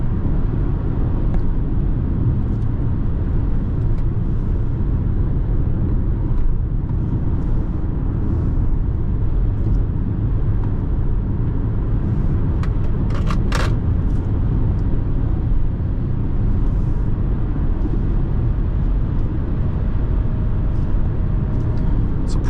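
Steady engine and road noise from a 2017 Infiniti QX70 AWD, a continuous loud low rumble from inside the cabin that stays even across the drive, with a brief sharper burst partway through.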